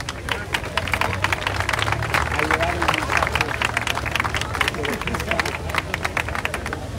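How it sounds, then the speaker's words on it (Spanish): A crowd at a municipal reforestation event in Ciudad Valles claps steadily for several seconds, loud and close, with a voice speaking over the applause. "Recibamos con un fuerte aplauso"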